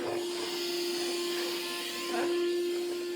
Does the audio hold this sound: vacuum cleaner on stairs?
yes